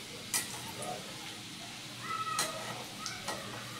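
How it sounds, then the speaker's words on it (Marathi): Garlic sizzles in a pan for a radish-greens vegetable dish as green chilies go in, a soft steady frying hiss with a few sharper stirring clinks and crackles near the start and again toward the end. "थोडा लसूण भाजला की आपण त्याच्यामध्ये घालूया आता मिरची"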